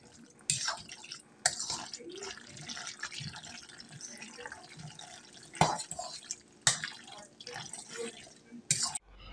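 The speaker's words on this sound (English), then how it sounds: "And it makes a noise when I stir it" A pot of food is stirred on a home stove, giving quiet, irregular bursts of scraping and clinking with soft wet sloshing between them, close by and without talk.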